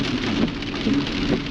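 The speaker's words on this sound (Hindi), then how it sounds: "अच्छी खासी बारिश हो गई है आज," Steady heavy monsoon rain on the Kinnaur circuit roads, a loud, unbroken wash of falling drops close by, with no talking.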